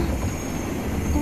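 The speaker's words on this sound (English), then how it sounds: "The train's leaving soon." A train in the game 13 Sentinels: Aegis Rim gives a steady low rumble of rolling wheels with a faint squeal near the end, heard alone in a brief stretch.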